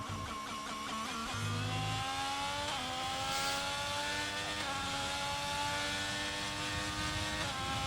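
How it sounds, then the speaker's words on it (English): A race car engine glitches during an online race at Monza in a racing video game, giving a loud, continuous synthetic drone with stepped, warbling pitch sweeps and abrupt jumps instead of a normal rev. "Getting engine glitch on Dodos. Let's get off of on board because that sounds horrific."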